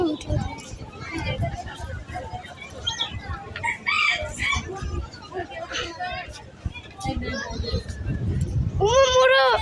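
Chickens cluck and a rooster crows among farmyard fowl, with a loud, rising crow close by near the end while people talk over most of the scene.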